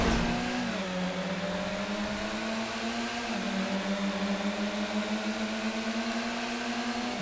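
A tuner-class car engine in GTA FiveM drones steadily at a race start, a mid-pitched hum that rises and dips gently as revs shift, continuous and close with no talking.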